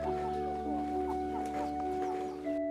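A domestic native chicken bought from a hill village clucks softly in short repeated calls over a steady hum of background noise.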